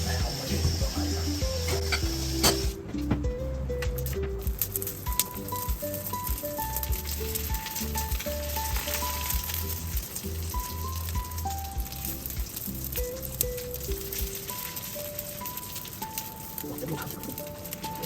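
Shrimp and seaweed rice paper rolls fry in oil, producing a steady, close bubbling sizzle that runs the whole time beneath a background of music.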